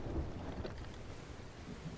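Stormy weather at sea in the pirate video game Sea of Thieves, with a low rumble of thunder and steady rain hiss filling the whole stretch at moderate loudness, no voices.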